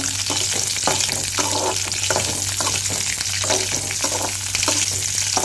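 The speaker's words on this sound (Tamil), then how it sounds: "நல்லா வதங்க வதங்குற வரைக்கும் நல்லா வதக்கிக்கலாம்" Garlic cloves and mint sautéing in a hot pan give a loud, steady sizzle, with regular scraping stir strokes repeating close by.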